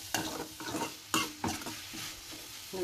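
Turmeric powder frying in oil for a tempering: a soft, steady sizzle broken by a few scraping stirs of a spoon in the pan, close and fairly quiet.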